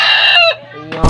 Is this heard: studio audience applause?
no